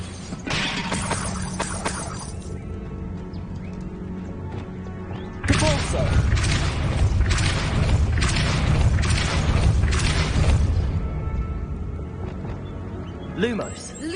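A Depulso spell blast in Hogwarts Legacy lands as a sudden loud boom with a crashing impact partway through, followed by several rumbling, shattering bursts over game sounds.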